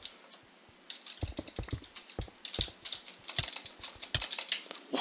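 Fast, uneven typing on a new computer keyboard during a game, with clustered key clicks and a few louder clacks over a steady background hum, close and fairly quiet.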